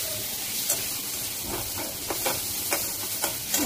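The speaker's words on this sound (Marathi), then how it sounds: "आणि हे पुन्हा एकदा हलवून घेऊया." Potato paratha filling fries in a pan with a steady sizzle, while a spoon stirs and scrapes in repeated, evenly spaced strokes close by.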